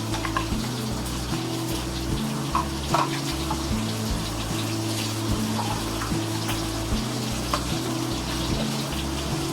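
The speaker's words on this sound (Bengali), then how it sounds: "আমি এই পিউরেটা একবার একটু স্ট্রেনারে স্ট্রেন করে নেব" Tomato puree being pushed through a strainer for chicken butter masala, a continuous wet sloshing and scraping with a steady low hum underneath.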